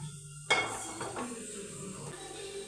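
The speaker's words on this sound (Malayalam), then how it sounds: "നമുക്ക് ഒരു പാനിൽ അങ്ങോട്ട് വെക്കാം" A single sharp metallic clank of a pan set down on a stovetop, followed by faint kitchen clatter and a low background hum.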